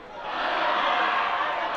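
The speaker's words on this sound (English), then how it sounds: "You could hear them cheer from all the way up here." A crowd cheering at an under-18 girls' rugby league match between Aotearoa Maori and the Cook Islands, a steady, broad roar of many voices heard from a distance, holding for under two seconds.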